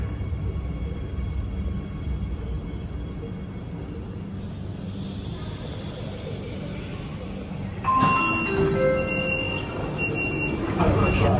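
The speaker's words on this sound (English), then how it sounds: "Train is arriving." A metro train in China rumbles into a station, with a rising roar and a squealing brake tone near the end, steady and fairly close.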